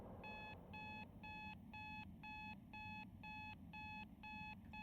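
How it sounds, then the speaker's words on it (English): An alarm clock rings in a horror video game set in a photo studio, a crisp electronic beep pattern repeating in evenly spaced bursts over a low background hum. "Your day starts with an alarm,"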